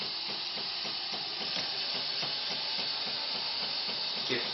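A Jura F7 coffee machine runs with a soft, steady hiss and a faint rhythmic churning underneath, fairly quiet and continuous, with no one speaking.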